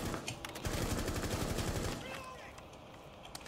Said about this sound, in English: Is he chasing me with a shotgun?